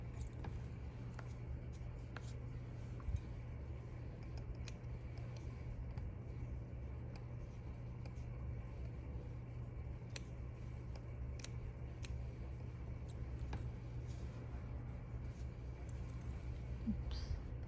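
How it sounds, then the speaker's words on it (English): Scissors make tiny snips while trimming mink fur on a teddy bear muzzle, faint scattered clicks over a steady low hum and background rumble. "Tiny, tiny snips."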